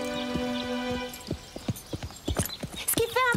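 Horse hooves clip-clop at a steady walking pace on a hard surface, with a sustained tone early on and a horse's whinny-like sound near the end.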